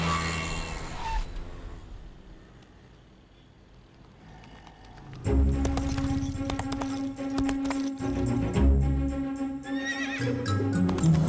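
A horse whinnies loudly with clip-clopping hooves. After a quieter stretch, the neighing and hoofbeats return, full and close.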